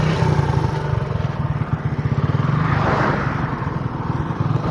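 A motorcycle engine runs steadily at close range with a rough, pulsing idle-to-low-rev drone as a learner sets off on the bike, no voices over it.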